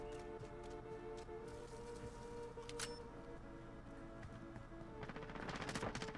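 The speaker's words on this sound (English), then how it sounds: "Oh, I'm getting shot from behind." Automatic rifle fire rattles through a Call of Duty Warzone match, a steady spray of distant shots with a louder, denser burst near the end, with no talk over it.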